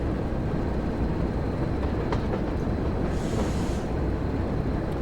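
A train in the Train Sim World game rolls along the West Somerset Railway with a steady, dense rumble and faint rail clatter, continuous and close throughout with no talking.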